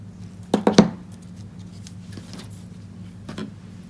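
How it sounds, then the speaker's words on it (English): Scissors snipping off ribbon ends at a craft table, a quick cluster of three or four sharp close snips, then a lone softer snip a few seconds later, over quiet room hum. "Chop off those ends."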